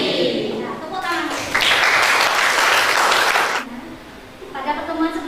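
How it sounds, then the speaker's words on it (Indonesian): Students applauding in a high school Indonesian language class, a dense burst of clapping lasting about two seconds, with a teacher's voice before and after. "Nah, tepuk tangan."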